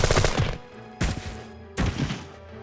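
Austrian Army standard assault rifle fired in the Jagged Alliance 2 game: three loud, booming gunshots about a second apart, each with a broad crack and a decaying tail, no talk.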